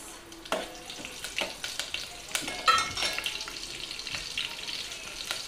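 Cumin, mustard seeds and chili frying in oil make a soft, fairly distant sizzle punctuated by scattered pops, clatters and stirring knocks.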